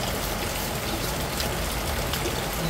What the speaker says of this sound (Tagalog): Malakas pa po ang ulan.